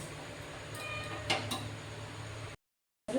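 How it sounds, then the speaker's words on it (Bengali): A utensil scrapes and clinks against a pan while stirring simui vermicelli frying toward crispness, a few soft scraping strokes over a steady background hiss, then a brief silence. "এটা নাড়াচাড়া করে এটাকে একটু মুচমুচে করে নেব।"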